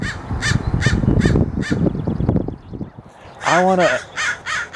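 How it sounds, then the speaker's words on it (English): Loud, harsh crow caws repeat in bursts in a wildlife area, first over a busy low rumble of background noise, then a few more ringing out clearly near the end. "There's a lot of crows around."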